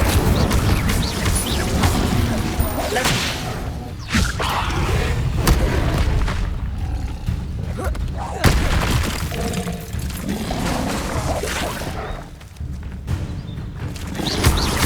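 An Incendio fire spell blasts in Hogwarts Legacy, a dense, booming burst of flame over continuous loud game noise, with repeated surges and cracks throughout.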